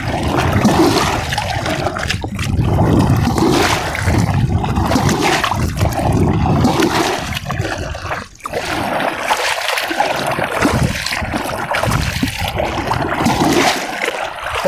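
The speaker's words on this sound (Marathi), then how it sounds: "तर असंच पुढे पुढे आपल्याला पाणी वाजवीत जायचं आहे।" Water is splashed and beaten by hand, loud and continuous, to drive tilapia into a fishing net in a village pond. The churning splashes repeat with barely a pause.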